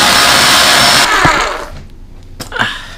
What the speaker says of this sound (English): Whoops, we gotta cut this 2x4.